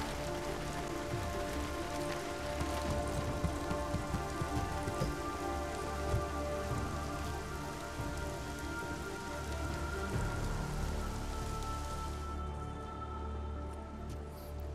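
Steady in-game rain in Deus Ex: Mankind Divided, falling on a night street in Prague and pattering on armor, a dense continuous hiss with a constant low rumble underneath and no talk.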